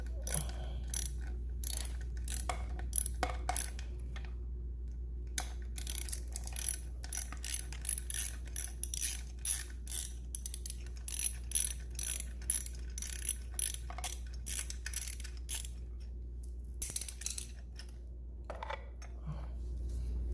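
Ratchet clicking rapidly in bursts while a 10 mm bolt is loosened on a Honda Ruckus clone scooter, close and crisp over a steady low hum, with brief pauses between runs.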